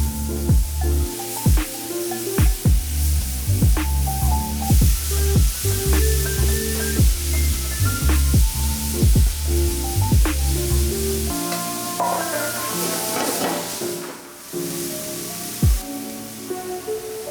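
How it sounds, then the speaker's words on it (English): Carrots, onions and celery sautéing in a pan for a boneless short rib dish give off a steady sizzle, with music playing throughout. "Next, you want to saute your carrots, onions, and celery."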